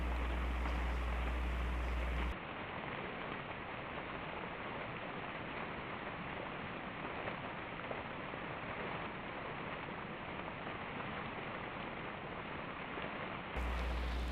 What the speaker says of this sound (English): In this clip you see Steve applying the water on the outside.